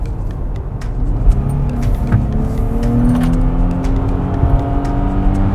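A Nissan Fairlady Z front-engine, rear-drive sports car with a 400 hp twin-turbo V6 revs close by, its engine note rising and falling in smooth sustained sweeps.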